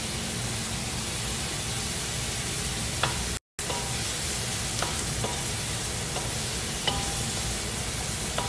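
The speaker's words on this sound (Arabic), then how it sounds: "أقلب الحين البصل لين يغلي" Onions fry and get stirred in a pan, giving a steady sizzling hiss broken by occasional light scrapes and one brief dropout.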